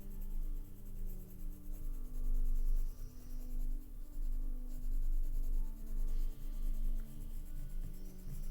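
Colored pencil burnishing over paper while drawing an out-of-focus area of a realistic apple, a close, soft, steady rubbing and scratching that comes alone in uneven back-and-forth strokes.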